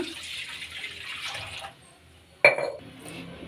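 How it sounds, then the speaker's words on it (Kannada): Water is poured into a pan on a stove. A soft, hissing trickle gives way to a short lull, then a sudden splash that fades into gentle sloshing, all fairly quiet. "ಈಗ ಒಲೆ ಮೇಲೆ ಬಾಣಲಿ ಇಟ್ಕೊಂಡಿದ್ದೆ, ನೀರು ಹಾಕ್ಕೊಳ್ಳೋಣ."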